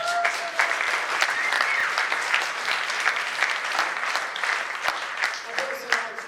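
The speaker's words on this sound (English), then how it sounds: "They deserve a round of applause." Applause from an audience at the British Country Music Awards ceremony, a steady, dense wash of many hands clapping throughout, fairly close and sustained with no break.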